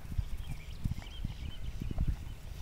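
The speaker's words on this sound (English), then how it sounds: "She's gonna be a cute little trail horse, isn't she?" A young mare being led as a future trail horse, her hooves clip-clopping in an irregular walking rhythm of close, distinct thuds, with faint ambient sound and no talk.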